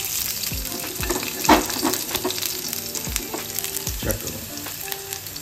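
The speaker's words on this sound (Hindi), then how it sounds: "तेल गर्म हो चुका है, इसमें हमने ना गार्लिक डालना है सबसे पहले।" Whole garlic cloves dropped into hot olive oil in a pan, sizzling and crackling steadily with a few sharp bursts as they hit the oil and are stirred, close and fairly loud, with brief speech over it.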